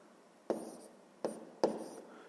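A pen scratches out a math calculation on paper in three short, quiet bursts of writing strokes separated by brief pauses, close and alone.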